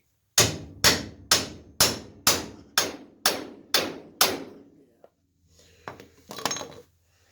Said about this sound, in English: maybe I should go get a bigger hammer